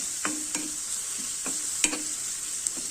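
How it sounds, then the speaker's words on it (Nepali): Cumin and coriander powder stirred and fried in a pan for a matar paneer curry, a steady sizzle underneath with a few sharp scrapes of the spoon spaced out, near and moderately quiet. "यो राखिसकेपछि पनि हामीहरू यसैगरी चलाउँदै भुट्दै गर्नुपर्छ।"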